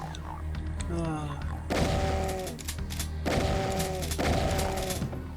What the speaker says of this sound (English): See how well I know the shotgun spread to hit that guy, but not that barrel?